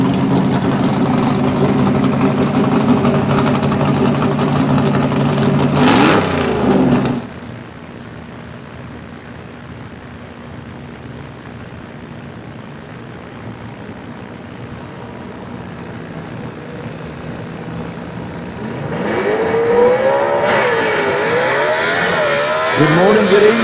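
A gasser drag race car at a Southeast Gassers event in London, Kentucky roars loudly for about seven seconds, drops to a distant engine hum, then another engine swells near the end.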